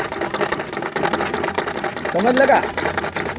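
Sewing machine stitching slowly during a tailoring lesson, a steady mechanical whir and rapid ticking running continuously under a man's speech.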